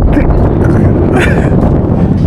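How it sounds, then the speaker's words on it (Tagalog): Strong wind buffets the microphone in a steady, loud roar at the Luge in Singapore, filling the whole clip, with faint voices now and then underneath. "Mahangin po."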